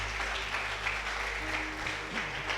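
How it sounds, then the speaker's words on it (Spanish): A church congregation claps steadily in a large room, a dense, even patter of applause throughout. "¿Cuántos le dan un aplauso al Señor?"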